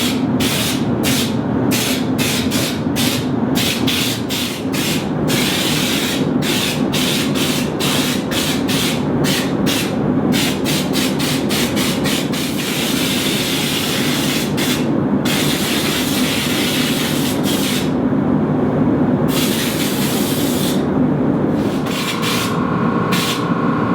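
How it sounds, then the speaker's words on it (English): Mitsubishi L200 trayback panels are sanded by hand in a garage, with a steady abrasive rasp broken by rapid rhythmic strokes and short pauses, continuous and close throughout. "I'm sanding those panels ready for the new colour"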